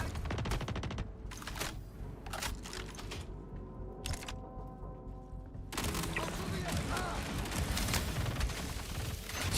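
Rapid weapon fire in the Star Citizen shooter, dense bursts of shots that stop for a few seconds and then resume in a long sustained stream, with a voice talking over parts of it.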